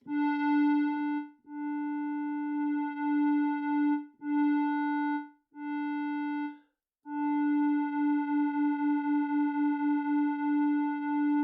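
A buzzy synthesizer tone holding one low pitch, cut into several sustained segments with brief gaps, its brightness shifting as the second oscillator's cutoff filter is adjusted, ending in a wobbling pulse.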